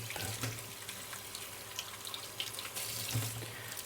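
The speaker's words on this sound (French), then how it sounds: "on va quand même bien les rincer pour enlever un peu de résidus de terre" Potatoes rinsed under a running kitchen tap, a steady close hiss of flowing water splashing into a sink with small bumps and shifts as the potatoes are turned, no talk.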